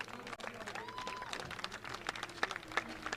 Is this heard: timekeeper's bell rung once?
no